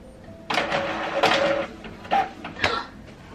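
A printer whirs and clunks in a few mechanical bursts, its motors grinding briefly and pausing between passes, heard up close.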